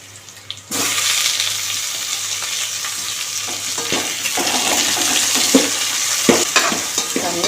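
A pan bursts into a loud, steady sizzle as onions and tomatoes fry in hot oil, with occasional stirring scrapes and clinks over the hiss.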